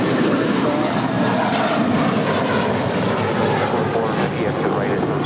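A United airliner takes off from runway 25 right at Los Angeles International Airport, its jet engines producing a loud, steady roar that fills the whole stretch without a break.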